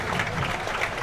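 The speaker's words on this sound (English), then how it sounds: "the fans will clap this side" Football fans applaud their team at a home ground, a brief wash of dense clapping from a large crowd, steady and fairly loud throughout.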